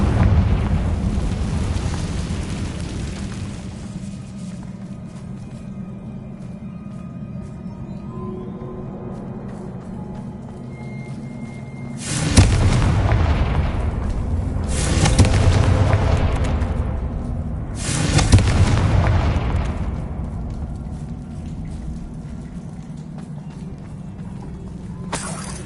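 Confringo fire spell explosions in the Hogwarts Legacy video game: three loud, roaring blasts in quick succession, each swelling and fading, set against a low ambient rumble with quieter stretches before them.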